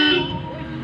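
A Toyota car horn gives one short honk, loud and close, with its tone fading out over less than a second.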